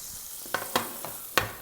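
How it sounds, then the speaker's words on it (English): Prime rib steak sizzles steadily on a metal tray, with a few sharp crackling bursts as the meat is turned, close and moderately loud with no talking. "I want to turn over the steak so it cooks evenly on all sides."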